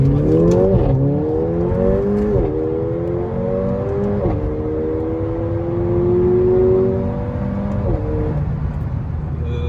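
A stage-tuned Mercedes A45 AMG engine revving in rising and falling sweeps, loud and close, with brief dips between pulls and faint crackle on the overrun.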